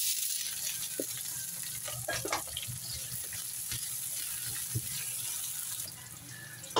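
Onions, with ginger already in the pan, sizzle and fry for beef spare ribs bicol express, a steady hissing crackle with occasional clinks and stirring taps that fades slightly near the end.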